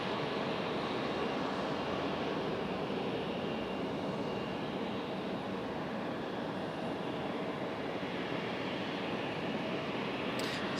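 An Icelandic airliner, a Boeing 737 MAX 8 or MAX 9, moves on the ground at Raleigh-Durham International Airport, giving a steady, broad jet-engine roar at a moderate distance that holds constant throughout.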